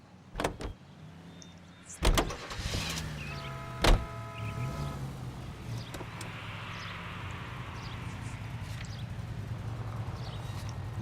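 A car in the video game LA Noire: a few sharp clunks like doors shutting, then an engine starts and settles into a steady low idle hum.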